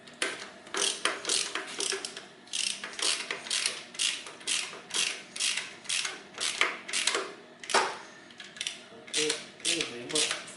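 Rapid, regular ratchet clicking in repeated bursts as bolts are tightened during a front-wheel-drive car clutch replacement, close and fairly loud, with a few metallic clanks and no talking.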